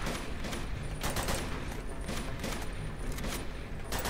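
Dense, continuous gunfire from the action game Uncharted 2: Among Thieves on PS4, a steady fusillade of overlapping shots and loud bursts running for the whole stretch with no pauses.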